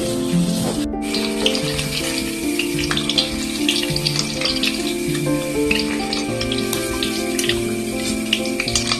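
Raw rice fries in hot oil, a dense, loud, continuous sizzle and crackle close up, with bright popping bursts layered over a steady hiss and no voices.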